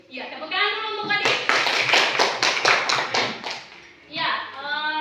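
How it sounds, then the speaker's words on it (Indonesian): A burst of group clapping in a classroom breaks out between stretches of someone talking, brisk and fairly loud, lasting a few seconds before the voice resumes. "Ya, tepuk tangan dulu untuk Adi."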